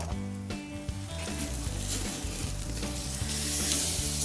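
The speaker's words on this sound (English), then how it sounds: "Move it over to that side of the grill. Let that grease burn off." Bone-in ribeye beef sizzles loudly on a grill as grease burns off, a dense continuous hiss and crackle with a few sharper spits, close and unbroken by speech.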